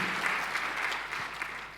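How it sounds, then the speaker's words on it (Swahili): A church congregation claps together during a Sunday sermon, a dense, steady burst of applause that fills the room without pause. "Clap your hands."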